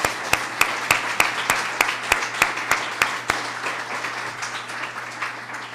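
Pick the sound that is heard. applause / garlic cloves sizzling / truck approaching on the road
applause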